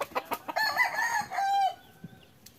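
A rooster crows once, a loud drawn-out cock-a-doodle-doo following a few short clucks, with faint rustling afterward.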